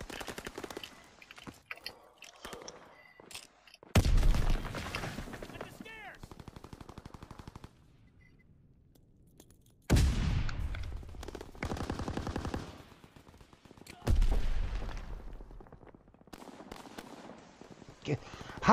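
Bursts of automatic gunfire in the Call of Duty: WWII team deathmatch come in loud clusters with quieter stretches between them, while players talk over the shooting.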